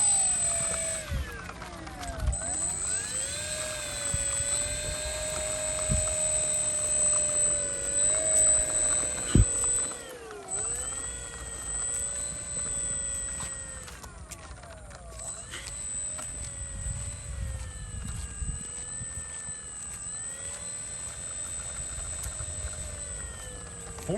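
A BlitzWorks Cessna 182 radio-controlled model airplane, about 1400 millimeters in wingspan, flies overhead with a steady electric motor whine that rises and falls in pitch as it passes, continuous for the whole stretch over faint outdoor background.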